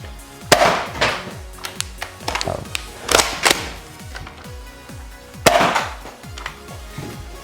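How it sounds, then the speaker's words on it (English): A Nerf Rival Takedown pump-action blaster fires spring-powered foam rounds in several sharp, close cracks, each paired with clacky pump and mechanism noises, with a ringing metallic decay between shots and no talk. "I'll load 2 rounds and we can do some test shooting."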